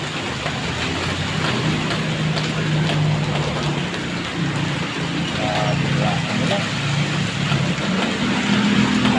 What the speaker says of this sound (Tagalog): sobrang ulan, lakas.